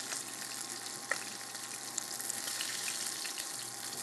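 Fish fillets sear in a frying pan with a steady, faint hiss of sizzling oil and an occasional small pop, continuous and even throughout with no voices.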